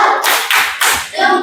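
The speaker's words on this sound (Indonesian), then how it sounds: "Tepuk tangan sekali lagi" Schoolchildren in a classroom clap together in a rhythmic group pattern, loud and close, in four quick bursts with short gaps between them.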